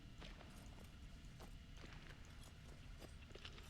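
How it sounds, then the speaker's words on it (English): Decoys thrown in quick succession in a video game produce faint, rapid irregular taps that resemble footsteps, repeating steadily over a noisy, hissing background. "if you throw a bunch of them in quick succession, it'll sound like footsteps"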